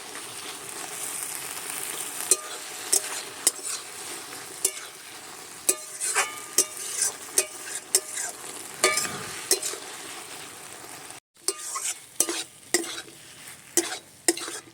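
Malabar spinach curry with ground cumin paste sizzling in a pan, a continuous fry under repeated sharp scrapes and knocks of a spatula stirring, close and fairly loud, with one brief cut near the end.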